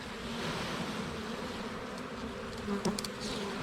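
Honey bees swarm around a hive in a steady, close buzzing drone with a low hum underneath, fairly faint, and a brief louder bump near the end.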